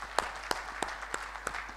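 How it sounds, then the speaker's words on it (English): Sparse, scattered hand claps from an audience at an HR conference session, a handful of distinct claps spread out and fairly faint against a quiet room. "Please clap for Annadorai rickshaw wala"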